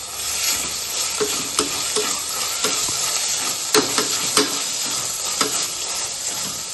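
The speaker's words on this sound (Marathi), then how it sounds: "आता लगोलगच यामध्ये मी चिरलेला टोमॅटो टाकून घेतली आणि साधारण 1 ते 2 मिनटं यालाही छान परतून घ्यायचं" Chopped tomato and capsicum sautéing in oil, a steady sizzle broken by repeated scraping stirs of a spatula, close and loud with no voices.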